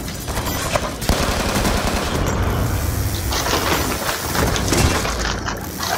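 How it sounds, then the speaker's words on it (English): Death Machine minigun from Call of Duty Black Ops 2 roaring in a sustained, loud burst of rapid gunfire with crackling impacts, continuous for several seconds in the co-op game. "Death machine spinning up."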